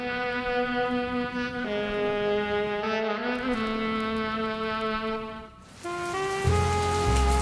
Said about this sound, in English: The night sky pours down rain like it has a personal grudge. The rhythm of droplets on the pavement echoes through the city's desolate alleyways